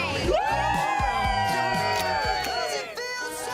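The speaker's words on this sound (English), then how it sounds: "Great crowd out on the plaza on a Tuesday morning." A large outdoor crowd cheers, whoops and shouts on a plaza on a cool Tuesday morning for a live TV morning show, a loud, continuous roar with high voices rising over it and a brief dip near the end.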